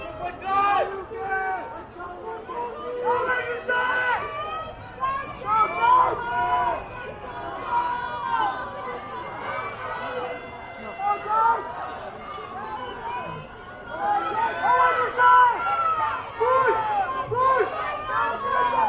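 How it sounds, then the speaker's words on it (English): Spectators cheer and shout at a canoe kayak sprint finish line during national team trials in Montreal, a steady roar of voices rising and swelling toward the end, with chatter mixed throughout. "We can hear the crowd cheering again"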